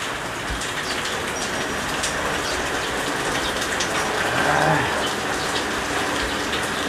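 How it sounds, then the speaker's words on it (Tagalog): Heavy rain pours down on a dark morning at a harvest site, a loud, dense, unbroken wash of drops hitting surfaces, close and steady with no one speaking. "Lakas ng ulan."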